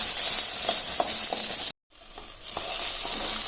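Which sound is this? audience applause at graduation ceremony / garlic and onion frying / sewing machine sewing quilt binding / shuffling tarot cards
garlic and onion frying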